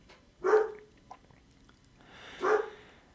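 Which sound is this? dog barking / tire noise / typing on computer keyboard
dog barking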